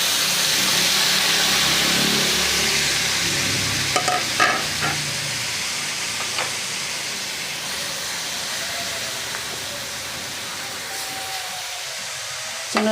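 Pork frying in a pan for home-cooked pork steak, a steady broad sizzle with some stirring noise, loud at first and easing slightly, with a few scraping clatters.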